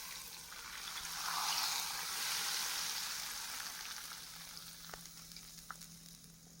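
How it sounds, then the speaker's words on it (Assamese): Garlic pickle with panch phoron spices sizzles in hot mustard oil, giving a steady, moderately loud frying hiss that swells and then slowly fades, with a couple of small pops near the end and no talking. "মই তেল গৰম কৰিলোঁ আপোনাৰ পাঁচফোৰণ দিলোঁ তেলত তেল গৰম হৈ গ'ল এতিয়া মই ইয়াতে ঢালি দিছোঁ"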